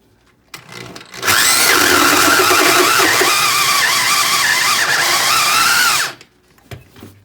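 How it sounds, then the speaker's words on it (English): A power drill bores a hole through a living-room floor, whining loudly and steadily for about five seconds, with quieter handling noise before and after. "Drill hole in the floor."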